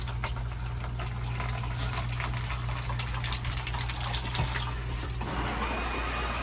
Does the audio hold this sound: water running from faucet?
yes